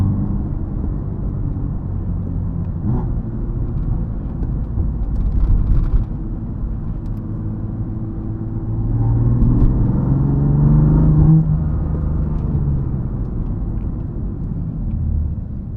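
A 700 hp BMW F80 M3 running on E85 with a loud exhaust makes a steady, deep rumble heard from inside the car. The rumble swells in the middle and then settles, with no talking.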